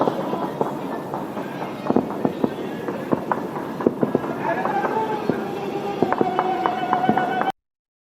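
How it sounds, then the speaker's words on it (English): Fireworks and gunfire over Beirut at night during a ceasefire: repeated sharp bangs and crackling pops at irregular intervals, some close and loud, over a busy outdoor background with a whistling tone near the end. "fireworks and gunfire lit up the night sky as the ceasefire began"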